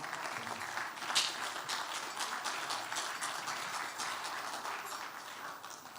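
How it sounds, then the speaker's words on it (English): A crowd claps at a pan-African leadership conference with graduation and awards, dense, even applause from many hands sustained for the full six seconds without letting up. "Let's give him a round of applause"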